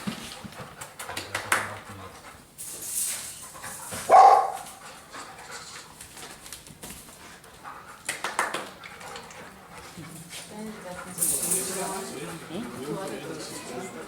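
A dog barks and whimpers in short bursts at moderate distance, mixed in with people speaking nearby during a training session.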